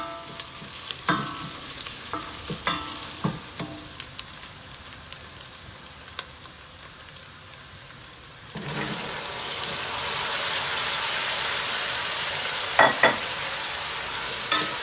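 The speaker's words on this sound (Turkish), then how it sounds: "Şimdi taze fasulyemi ve diğer sebzeleri ilave edeceğim" Green beans and other vegetables tipped into a pan of tomato paste sizzling in oil, with scattered stirring clatter at first, then a sudden loud, steady frying hiss that swells and keeps going.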